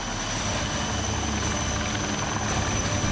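A HAL ALH Dhruv twin-engine helicopter in flight, a loud, continuous rotor and turbine roar with a steady high whine, heard alone.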